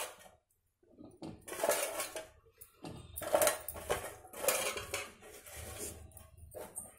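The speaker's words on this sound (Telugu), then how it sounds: "ఉడకబెట్టి వడపెట్టుకున్న కాలీఫ్లవర్ వేసుకుందాం." Boiled, drained cauliflower florets for gobi chilli Manchurian tipped into a pan and stirred, giving a few bursts of scraping and clattering against the metal, close and moderately loud, with short pauses between.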